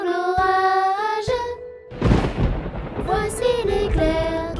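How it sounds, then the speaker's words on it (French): A burst of rumbling thunder from a thunderstorm breaks in midway through a sung children's song, loud and rolling for about a second before the singing and music resume over it. "Entends-tu le tonnerre? Il roule en approchant."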